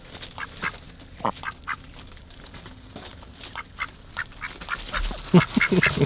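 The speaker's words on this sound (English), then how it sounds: "These bigger ducks just love grazing." Ducks quack in short, scattered calls, some near and some farther off, growing busier and louder toward the end.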